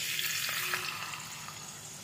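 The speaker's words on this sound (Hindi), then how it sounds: "अब हमने जो सूजी भिगो के रखी थी ना, उसको इसमें हम डाल देंगे।" Milk-soaked semolina goes into hot ghee for sooji halwa, frying with a soft, even sizzle and a few faint pops and stirring sounds, moderately quiet and steady with no talking.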